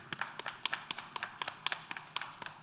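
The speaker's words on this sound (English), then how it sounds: "A round of applause, ladies and gentlemen." A small audience at a start-up pitch event gives scattered, quiet applause, a few hands clapping unevenly at a moderate distance for a couple of seconds, with no one speaking.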